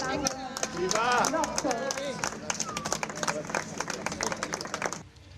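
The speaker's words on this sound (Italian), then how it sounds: "Facciamo un applauso per l'inaugurazione ufficiale" A crowd breaks into brisk clapping and applause at an official inauguration, with voices chattering and calling out over it, fading out at the end.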